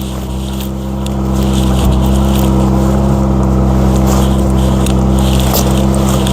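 An MG ZS car engine idling with the steering wheel being turned, a steady loud low hum that swells slightly after the first second and holds on evenly.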